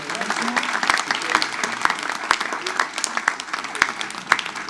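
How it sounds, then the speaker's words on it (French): An audience at a New Year's wishes ceremony applauds Miss Champagne-Ardenne with a lively patter of claps and sharp individual hand strikes, moderately close. "je crois qu'on peut l'applaudir d'ores et déjà"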